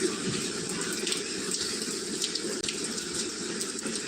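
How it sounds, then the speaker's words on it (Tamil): Heavy rain pours down in a dense, steady hiss and patter with a gushing, water-filled texture, continuous and close, with no voices. "மழை பெய்யுது பாருங்க நல்லா நன்மை பெய்யுது மழை"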